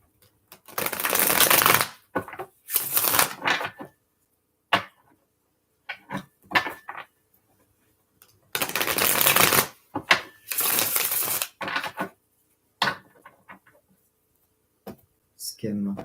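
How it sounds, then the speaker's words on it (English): A Gilded Tarot deck is shuffled by hand close by in bursts of brisk riffling and rustling. Pauses and light taps separate the two paired shuffling bouts. "Let's give it some shuffles."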